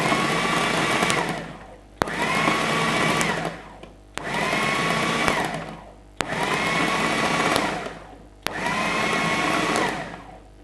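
Food processor grinds raw pork for a dumpling and dim sum filling, running in five pulsed bursts of steady motor whirring, each about two seconds long and separated by short pauses.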